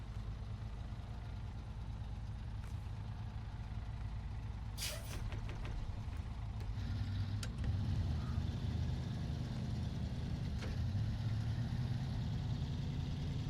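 In the SnowRunner video game, a Western Star truck engine idles and rumbles steadily. A short hiss of air brakes comes partway through, followed by a few light clicks.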